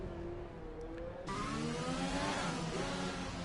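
McLaren Formula 1 car engine in F1 2020 at Abu Dhabi, a steady high-pitched engine whine that jumps louder partway through and keeps droning with shifting tones as the car heads into the pit lane.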